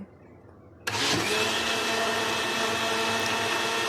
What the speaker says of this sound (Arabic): بص اضربيهم في الخلاط.